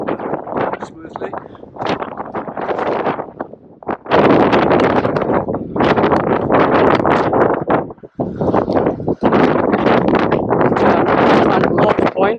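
Gale-force wind gusts batter the microphone at an outdoor model glider launch spot, producing loud, uneven roaring bursts that rise and drop, with a person talking underneath.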